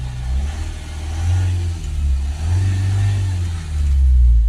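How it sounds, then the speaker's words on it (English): A car engine with a diesel particulate filter fault is revved while stationary, the low drone climbing and falling in two rising swells before a final louder rev, heard up close with no talking. "let's rev it up"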